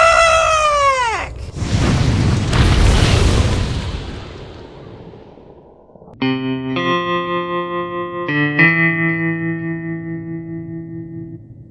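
Meteor attack in a video game: a falling whistling tone sweeps down, then a long rumbling explosion that fades out, followed by loud electronic tones and chords.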